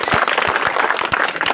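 An audience at the opening of a sewing and tailoring training centre clapping in welcome, a dense loud patter of many hands throughout the short stretch.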